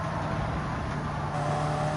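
A race car engine in Gran Turismo 7 drones steadily at a constant pitch, a continuous mechanical hum with no voice over it.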